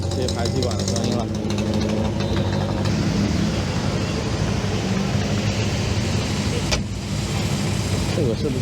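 A vintage car's exhaust idles at a Paris classic car summer parade in a continuous loud, rough drone close by, with a brief dip near the end and people speaking over it.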